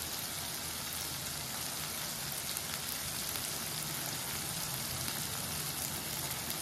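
Spiced masala frying with butter in a pan gives a steady, dense sizzle that runs evenly throughout, close and fairly loud, with no voices.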